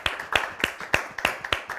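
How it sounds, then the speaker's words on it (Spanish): Applause for a journalist in an interview setting: a handful of close, rhythmic hand claps, about six in quick steady succession, with no talk over them. "Este aplauso es para vos"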